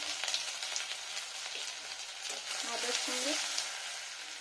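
Fenugreek greens fry in a pan with ginger and turmeric, giving a steady close hiss and crackle of hot oil throughout, with a faint voice murmuring underneath.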